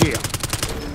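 Rapid gunfire from a PP-919 submachine gun in Call of Duty, a quick string of evenly spaced shots in a single short, loud burst.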